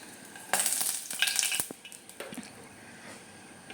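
Asafoetida dropped into hot oil for Kerala sambar sets off a sudden loud sizzle that crackles and spits for about a second, then settles into a quieter, fading fry with a few soft pops.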